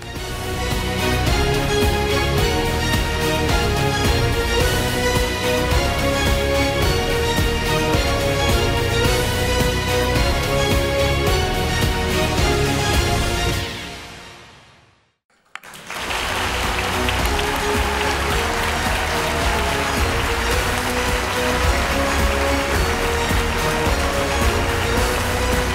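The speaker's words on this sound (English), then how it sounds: "representing Hertfordshire, please give a round of applause to Abul Kalaam from Abbots Tandoori." An audience at an award ceremony for chefs and restaurants applauds loudly and steadily in a dense roar of clapping, briefly fading out before a second sustained burst of applause follows.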